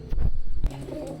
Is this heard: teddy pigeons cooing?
yes